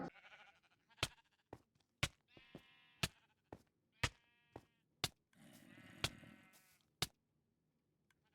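Repeated short sheep bleats from a Minecraft game, interleaved with sharp clicks and thuds, come through clearly with brief gaps of quiet between them.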